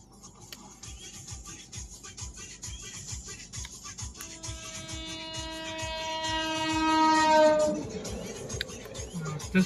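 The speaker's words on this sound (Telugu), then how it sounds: "ఇక్కడ గేట్ దగ్గర ఆగినాం అనమాట మా ఊరికి వెళ్ళే దగ్గర గేట్ ఉంటుంది సో ట్రైన్ వస్తుంది" A train runs past a railway level crossing gate on a village road, a steady rhythmic clatter of wagons with a loud horn sounding as it draws close, the noise swelling near the end.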